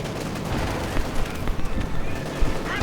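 Rapid MG-42 machine gun bursts crackle through a Company of Heroes battle near a church, layered with scattered gunfire and explosions in a dense, continuous din.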